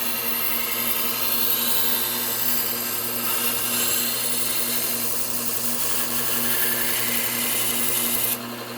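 Dull Chicago kitchen knives, damaged by a pull-through sharpener, are worked against a sharpening tool to raise a burr, giving a continuous, even grinding hum with a steady tonal drone, loud and unbroken until a brief drop at the end.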